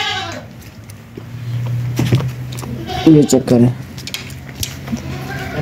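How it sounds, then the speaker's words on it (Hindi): Goats bleat at a goat market where a large doe stands with her kid, several short close bleats rising over steady background noise while someone speaks. "माशाल्लाह बड़ी बकरी है जी, फर्स्ट टाइमर है। ये इसके साथ बच्चा है नार"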